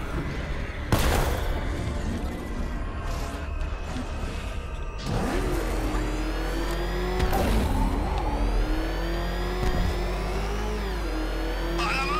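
A vehicle engine revs steadily in the video game Batman: Arkham Knight, a continuous close roar rising and falling in pitch, broken by sharp impact bursts and game effects.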